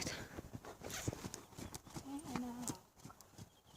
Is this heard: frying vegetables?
no